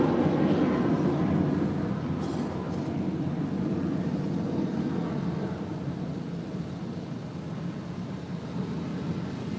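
An American Airlines Airbus A321 departing Los Angeles International Airport, heard as a steady, broad jet roar that holds loud throughout and fades only slightly toward the end, with no talk.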